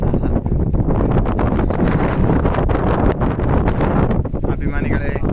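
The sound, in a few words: wind blowing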